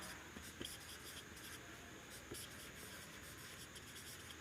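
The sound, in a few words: writing on a board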